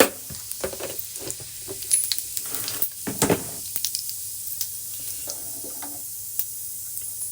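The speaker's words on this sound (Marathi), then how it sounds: "तेल आपलं गरम झालेलं आहे त्यात जाईल अर्धा चमच जिरा" Half a spoon of cumin seeds dropped into hot oil, crackling close by in irregular pops and hisses that peak early and then settle into a quieter sizzle, with no talking.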